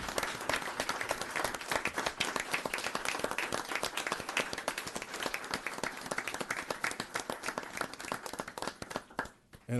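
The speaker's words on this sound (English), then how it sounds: "would you please join me in giving a round of applause to the police officers that you see before you?" Sustained applause fills a town board meeting room as the audience claps for police officers, dense and steady throughout before dropping off sharply near the end.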